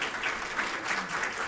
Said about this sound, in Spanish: Un aplauso, por favor.